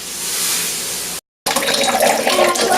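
Water runs steadily from the two hoses of an antioxidant water machine, a loud continuous gush that briefly cuts out and then resumes with a splashier stream.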